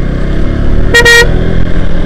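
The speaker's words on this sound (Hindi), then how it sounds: "और बाइक के हॉर्न का साउंड क्या कीजिए।" A motorcycle horn gives one short, loud toot, split into two quick bursts, over the idling engine noise of the moving bike.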